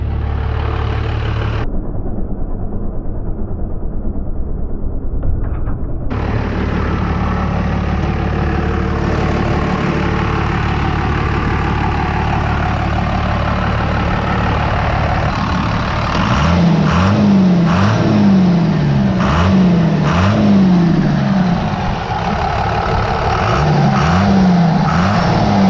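A 12-valve Cummins diesel fitted with a new Borg Warner K27 turbo runs steadily up close in a GMC, a loud continuous idle with a low throbbing pulse that grows rougher and more pulsing toward the end.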